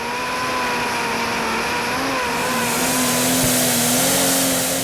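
The diesel pulling tractor Neighbour's Nightmare roars steadily through a pull run at a European tractor pulling championship in Brande, Denmark, a loud sustained engine drone that climbs slightly in pitch and intensity toward the end.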